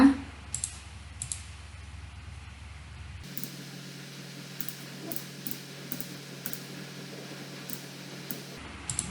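A computer mouse clicks while arranging a PowerPoint slide: a series of crisp, close single clicks spaced irregularly over a quiet hiss.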